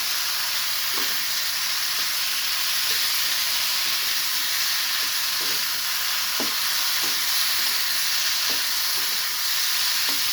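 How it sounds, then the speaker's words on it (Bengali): Potatoes and okra frying in a pan with rice and egg, a continuous loud sizzle and hiss with light, irregular stirring scrapes heard throughout. "আমি আলুগুলো দিয়ে দিলাম এর সাথে কষিয়ে নেবে আলুগুলো"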